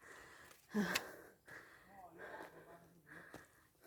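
Faint, heavy breathing from a woman climbing a steep mountain trail toward a cave monastery: irregular gasping breaths with one sharper gasp early on, close and quiet.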